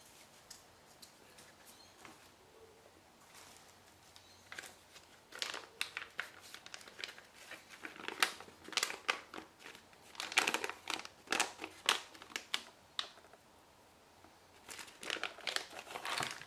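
Packaging around a Kurono Tokyo Chronograph II watch is unwrapped up close. Irregular bursts of crinkling and rustling grow busier and louder, with brief quiet gaps and no voices.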